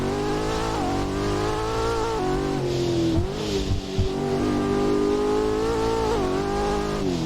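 A car's engine revs hard under wheelspin, the pitch sagging and recovering as traction control reins the revs back, with a brief tyre scrabble midway; loud, close and continuous, with no talking.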